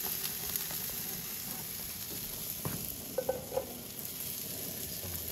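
Steaks sizzling in a pan during home cooking, a steady close frying hiss with a few soft clinks and stirring scrapes near the end.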